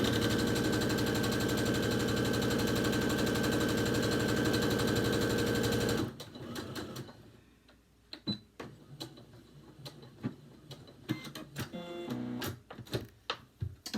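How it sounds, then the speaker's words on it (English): Sewing machine stitching fabric along the curve of a face mask, a dense steady whir for about six seconds before stopping, followed by scattered quiet clicks and handling sounds. "you're going to start by sewing along the curve here"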